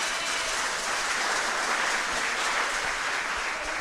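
Dense, steady applause fills a conference hall for a Pastoral Afro Apartadó talk, a continuous loud wash of many hands without a break or any talk.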